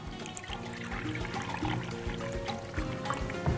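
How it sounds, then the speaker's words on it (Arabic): Warm water pouring into a container for qatayef batter, a short continuous splashing stream with no talk. "هجهز كده 3 كوبايات مية، قلنا المية دافية، هنعمل كده مزيج ما بين المية الباردة والمية السخنة."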